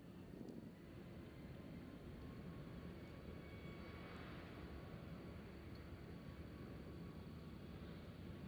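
A distant aircraft taxis at Nashville International Airport on a windy day, its engine drone a steady low rumble under gusting wind noise, with no talking.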